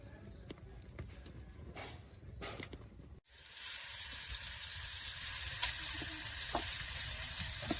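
Oil sizzles loudly and steadily in a hot pan on a wood-fired stove, starting abruptly after a few seconds of faint crackling and knocking.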